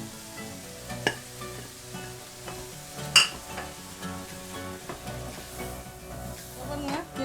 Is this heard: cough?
no